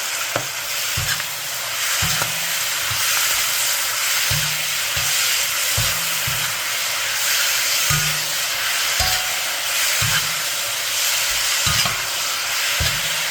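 Pork belly sizzles and fries in caramel over medium-high heat, with steady frying hiss and repeated stirring scrapes at a regular pace, loud and close with no talking.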